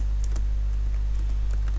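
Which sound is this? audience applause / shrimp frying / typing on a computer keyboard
typing on a computer keyboard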